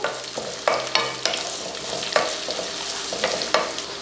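Green peas sautéed in a pan for a home breakfast dish, stirred with a spoon: a steady soft sizzle broken by about eight sharp scraping strokes, close and fairly loud, with no talking.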